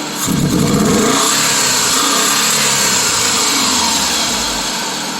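A 2001 Subaru Legacy that is running rough, running rich and overheating revs loudly up close, its engine rising in a quick surge and then holding a steady roar.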